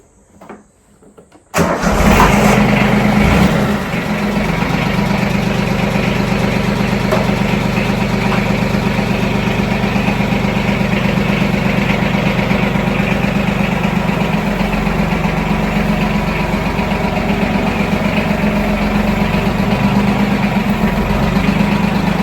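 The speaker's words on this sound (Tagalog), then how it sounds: "So, labas muna natin ang traktora." A tractor engine cranks and catches after a moment of quiet, then settles into a loud, steady idle that chugs on without a break, on a mountain farm.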